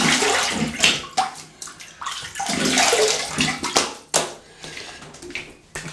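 Water from a tap splashes and slaps as a face is rinsed with cold water after shaving, in irregular close bursts of splashing and dripping.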